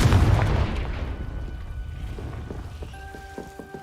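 A Confringo fire spell explodes in Hogwarts Legacy: a loud booming blast that fades into crackling, rain-like debris, followed by faint chiming game tones, with no talking.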